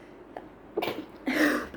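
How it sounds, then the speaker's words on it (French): A single person's sneeze: a brief intake followed by a sharp, close burst of breath, fairly quiet and heard alone without talking. "Excusez-moi, j'ai envie d'éternuer."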